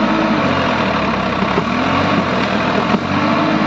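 Farmtrac 60 tractor fitted with a 6-foot rotavator, its diesel engine running at a steady, loud idle throughout with a continuous low rumble and no talk.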